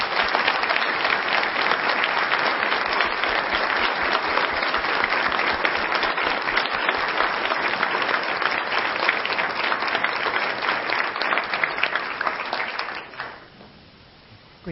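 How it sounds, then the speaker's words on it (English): Sustained, dense audience applause for science award winners fills the room, steady and even for about thirteen seconds before fading quickly to a quiet tail. "if we could have a round of applause, please"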